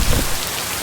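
Heavy rain pours down steadily, a dense broadband hiss of drops on surfaces with a stronger rumbling burst at the start, loud and close throughout.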